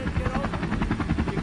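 A helicopter's rotor chops loudly and steadily nearby, a fast rhythmic thumping over a broad engine roar with no pauses.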